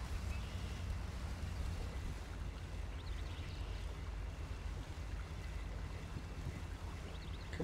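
An off-road truck pushes through water in the MudRunner video game, giving a steady, low sloshing rumble with wind-like noise, faint and continuous, with no talk.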